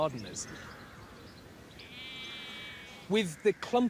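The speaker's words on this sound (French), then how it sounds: "Cette vaste zone d'herbe où nous nous trouvons actuellement est tondue par les moutons." Sheep bleat on a broad grazed lawn in a parkland estate garden, several short wavering calls clustered near the end, with a faint thin insect-like whine in the background.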